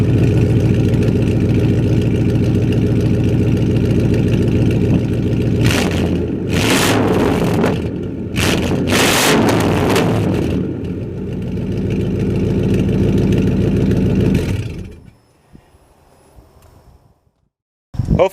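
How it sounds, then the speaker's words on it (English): A 1998 truck engine idles with a loud, rumbling exhaust, then revs in several sharp bursts before settling and cutting to near silence at the end. "I'll give it a little rev here for you guys so you can hear exactly how loud she is"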